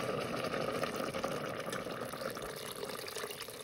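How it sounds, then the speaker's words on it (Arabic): Boiling water poured into a pot of lentil soup with onion, spinach and potato, a steady close rushing splash that runs for several seconds without pause and with no talk. "وهلا صار وقت نضيف المي المغلية."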